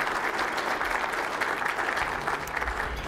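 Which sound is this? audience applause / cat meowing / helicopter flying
audience applause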